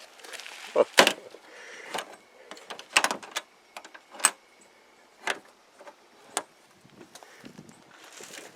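The door of a garden compost tumbler is shut and latched, heard as a series of sharp, close clicks and clacks spaced irregularly over several seconds, with fainter handling knocks in between.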